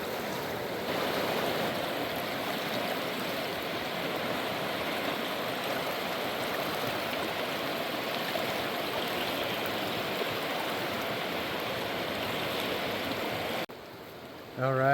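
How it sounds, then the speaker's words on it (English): The Deschutes River flowing just below Maupin City Park, a steady broadband rush of moving water heard alone and fairly close, cutting off abruptly near the end. "here we are, the Deschutes River, just below Maupin City Park"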